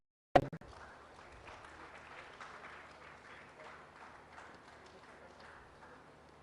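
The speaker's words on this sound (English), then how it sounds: "We give a big round of applause." An audience applauds at a live Telangana event on capital and productivity. A sharp knock opens, then faint, steady clapping continues from a distance, low and even throughout.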